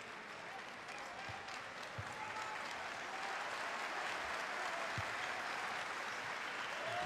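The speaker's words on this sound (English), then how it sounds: "Getting a warm round of applause as well" An arena crowd at a professional basketball game applauds a player after his free throws, a steady wash of clapping and crowd noise with an announcer talking over it.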